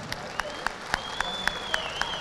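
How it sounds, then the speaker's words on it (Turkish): Crowd applause for a world champion wrestler at an international wrestling event, heard as scattered distinct claps in a slow, even rhythm, moderately faint and spread out, with a whistle-like tone gliding over the top. "Bir alkışlayalım kahramanımızı."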